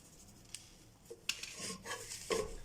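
Moringa leaves are dry-roasted in a hot pan, with a few soft scrapes and light metallic clicks of stirring that grow a little busier toward the end, quiet and close with no voices.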